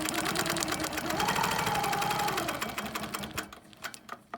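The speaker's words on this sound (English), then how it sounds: "So we're going to stitch along there." A sewing machine stitches steadily along a quilt template line on a wholecloth quilt, running in a fast, even rhythm for about three seconds before slowing to a few separate stitches and stopping. It is close and loud, with no talking.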